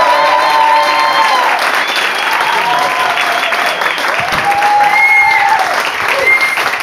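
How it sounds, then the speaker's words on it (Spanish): A comedy-club audience applauds a stand-up comedian taking the stage, with dense, steady clapping filling the room and a few whistles and cheers rising over it. "Fuerte el aplauso para Joseba Pérez"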